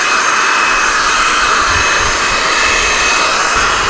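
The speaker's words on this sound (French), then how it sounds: "on va chauffer la tôle avec un décapeur thermique." A heat gun blows hot air onto the sheet-metal body panel of a Citroën C4 for dent repair, a loud, steady, close-up rushing whine that holds constant without any talking.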